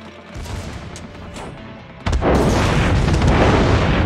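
An enemy destroyer blows up in a naval combat video game, a sudden deep boom about halfway through that rolls into a loud, sustained roaring rumble. The sounds before it are quieter, with muffled battle noise.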